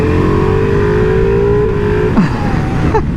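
2021 Ducati Multistrada V4S motorcycle engine revving, a loud close V4 roar whose pitch rises steadily, then drops and climbs again through quick gear changes.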